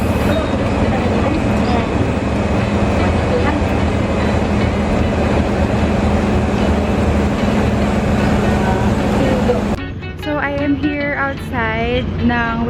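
Ferries at the port of Balingwan give off a steady, loud engine rumble. It drops away near the end, leaving lighter tonal sounds, and a voice speaks briefly.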